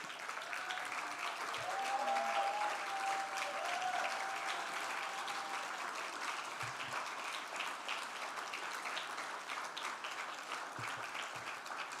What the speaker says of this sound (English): can you join me in standing up and applauding the gift of this great institution?